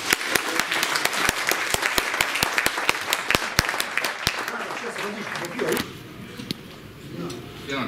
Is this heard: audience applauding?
yes